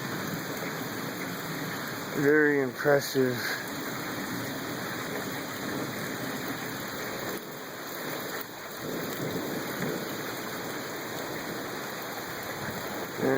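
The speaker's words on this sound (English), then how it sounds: "was the coolest storm I've ever seen" Thunderstorm with lightning, heavy rain hissing steadily and low thunder rumbling through it, while someone speaks briefly near the start.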